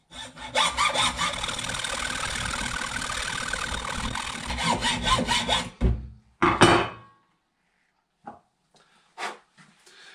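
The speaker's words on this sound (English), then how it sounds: "stick that in the vice cut it off with my hacksaw" A hacksaw cuts through an earth cable from a VW T3/T25 clamped in a vice, with rapid, rasping back-and-forth strokes close up for several seconds, then a pause and a few scattered clunks and taps afterward.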